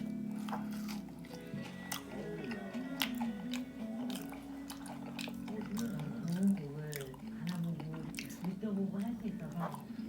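Homemade Kyochon-style wedge potatoes are eaten close up, giving soft, wet chewing and biting sounds with small crunches. A voice murmurs and talks between bites.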